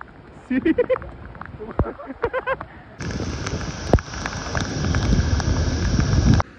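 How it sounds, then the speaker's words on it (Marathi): Heavy rain falls during a drive along Marine Drive in Mumbai. Voices are heard briefly, then a loud, steady rushing hiss starts abruptly and continues to the end. "पाऊस तर जोरातच आहे, तुम्हाला दिसत असेल"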